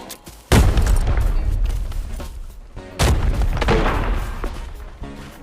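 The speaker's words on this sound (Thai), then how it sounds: "เหมือนมีเสียงปืนว่ะ" Two heavy, booming gunshot blasts in the video game Arena Breakout, with long rumbling decay, one early and one midway, loud and close with no talking.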